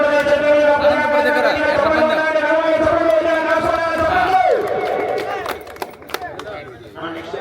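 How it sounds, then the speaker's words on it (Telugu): A crowd at an Ongole bull show roars and cheers in a sustained, loud wash of voices with scattered clapping, tapering off toward the end, with a voice over it. "గట్టిగా చప్పట్లు కూడా ఘనమైన చప్పట్లు."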